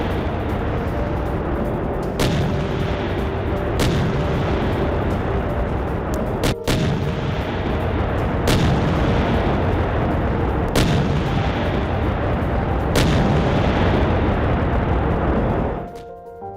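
Artillery shelling from a German self-propelled gun in Ukraine: a sustained roar of heavy fire with six or seven sharp, loud blasts standing out at irregular intervals, continuing steadily until the sound drops away near the end.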